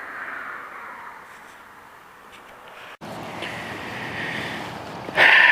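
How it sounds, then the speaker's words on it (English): Cold headwind buffets the microphone while cycling on a bicycle tour, a rough, rushing roar that dips briefly midway, then returns stronger, with sharper gusts near the end. "And it's pretty cold right now and windy. I'm going right into the wind."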